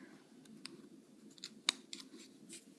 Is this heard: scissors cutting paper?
yes